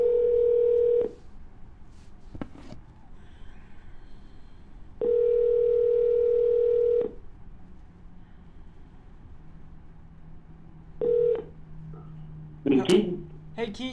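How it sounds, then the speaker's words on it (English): A telephone dial tone followed by a few short dialing beeps and then ringback tones, heard through the handset with faint background hum and a brief voice at the end. "And we're dialing."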